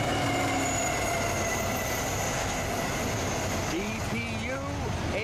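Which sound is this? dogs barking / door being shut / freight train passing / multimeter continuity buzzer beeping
freight train passing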